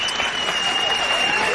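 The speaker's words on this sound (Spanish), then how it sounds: "Janet Rodríguez, un aplauso para ella." A TV studio audience gives a guest steady, dense applause, a continuous wash of clapping heard up close for the whole brief moment.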